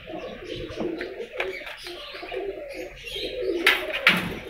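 Pet pigeons coo softly and repeatedly in a loft kept by a pigeon fancier, with a few chirps and rustles layered in, fairly close and steady over the short stretch.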